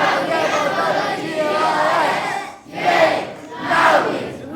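A group cheering a name together in a chanting rhythm, a continuous crowd of voices that rises in two loud swells near the end.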